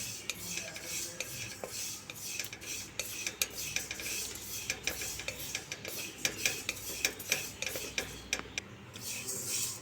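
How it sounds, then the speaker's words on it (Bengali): Sesame seeds being lightly dry-roasted in a pan over a low flame, with repeated sharp clicks and scrapes of stirring close by over a soft, steady background hiss. "তিলটাকে ভেজে নিচ্ছি হালকা।"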